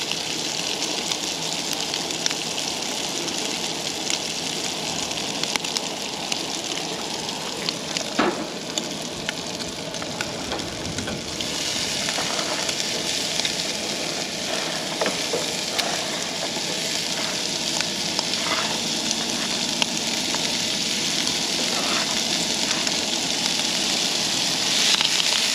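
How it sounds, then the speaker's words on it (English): Browned sausage with peppers and onions sautés in a pan, giving a continuous, moderately loud sizzle with scattered crackles and stirring sounds throughout. "We'll just saute these until the onions start to look a little bit clear."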